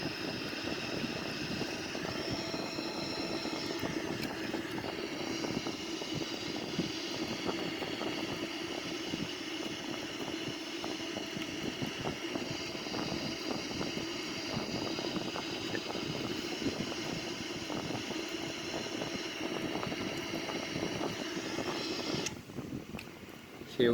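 Steady engine roar of a Boeing 787 climbing out over Zurich in a flight simulator, a continuous even drone with no breaks, moderately loud throughout.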